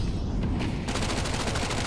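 Rapid bursts of video-game gunfire from a Mac 10 submachine gun in Counter-Strike on the Anubis map, a dense continuous rattle of shots, loud and close, with no talk over it.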